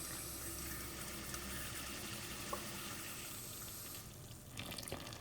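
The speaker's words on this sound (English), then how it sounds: "I'm going to pour in 300 grams or milliliters of water." Water pours steadily from a kitchen tap into a container for pizza dough, a continuous close splashing rush that thins and breaks up near the end.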